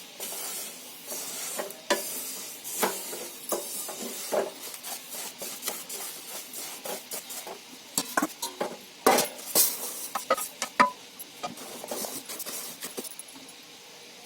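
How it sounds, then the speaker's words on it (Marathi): Roasted sesame seeds scraped and stirred with a wooden spoon in a hot kadhai after the gas is turned off, making dry rasping strokes in an uneven rhythm, close and moderately loud, with no talking. "गरम कढई आहे ना तोपर्यंत आपण ढवळत राहायचं."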